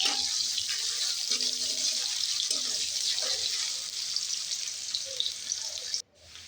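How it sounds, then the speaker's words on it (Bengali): Chopped onions frying in a pan with whole garam masala spices and radhuni, a steady loud sizzle throughout, cutting off abruptly near the end. "পেঁয়াজটা লাল করে ভেজে নেব।"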